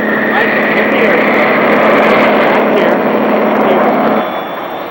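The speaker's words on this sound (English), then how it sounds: "advance the throttle to ignition" A light aircraft engine with the throttle advanced to ignition roars loud and steady at close range, with a constant high whine, then eases slightly just before the end.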